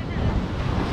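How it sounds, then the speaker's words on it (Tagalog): Rough sea waves breaking at a beach, heard as a dense low rumble and hiss of churning water mixed with wind buffeting the microphone, loud and continuous for the whole moment. "pakikita ko lang sa inyo yung galit ng mga tubig na to"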